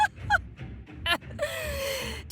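Swans honk and call in a rapid series of nasal, trumpeting cries, some short and clipped, then one longer drawn-out call, close by over a low rumbling background.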